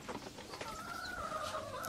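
Backyard chickens clucking with a rooster's drawn-out call rising midway, close and moderately loud, heard alone without talk.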